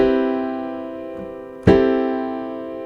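Two sustained piano chords, the first ringing out alone, then a second struck firmly at about the midpoint and left to decay in quiet.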